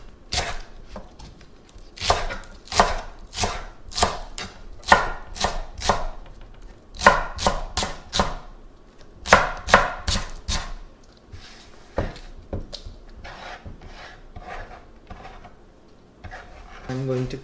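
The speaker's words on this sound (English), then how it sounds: "2 green onions. You can chop them diagonal." Knife chopping two green onions diagonally on a cutting board for a kimchi pancake: close, crisp chops in quick bursts of three to five strikes, with softer, sparser cutting sounds toward the end.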